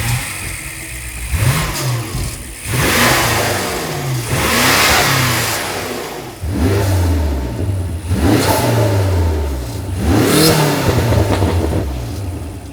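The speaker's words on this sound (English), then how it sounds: "it also releases a lot more turbo intake sounds, which on this model, now that it's been tuned as well with more boost, more power, it now sounds even better." Tuned BMW F90 M5 with raised boost revs hard in repeated bursts, each climb ending in a sharp drop with turbo intake whoosh and pops, loud and close with no talk.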